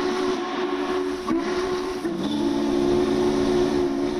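The 611 steam locomotive sounds its whistle in a sustained, loud chime tone that dips and shifts pitch partway through, with no speech over it.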